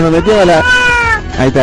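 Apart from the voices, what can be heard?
cat meowing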